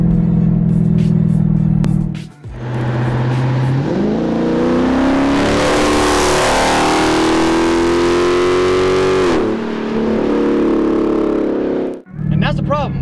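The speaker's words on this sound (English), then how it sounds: "This V8 is awesome sounding. You guys heard that" A Dodge Charger Scat Pack V8 engine idling with a deep burble, then revving up with a long climbing, sustained roar before dropping back, loud and close, with a second short blip at the end.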